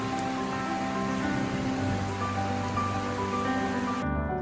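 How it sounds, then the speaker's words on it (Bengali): Heavy monsoon rain pours outside a house on a balcony side, a steady dense hiss of drops on surfaces throughout, with a low hum beneath and an abrupt change near the end. "বাইরে এই মুসলধারে বৃষ্টিতে আসলে রান্নাঘরে থাকা দায়"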